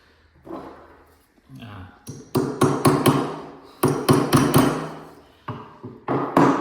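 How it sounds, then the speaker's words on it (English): Metallic hammer blows drive an anchor bolt into a drilled hole, ringing out in quick bursts of several strikes each, close and sharp, separated by short pauses. "Make sure when you hammer this down, you don't deform the threads."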